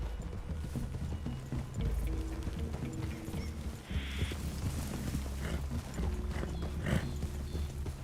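Horses walk in the video game Red Dead Redemption 2, their hooves making a continuous, moderately close clip-clop over a low ambient hum, with no talking.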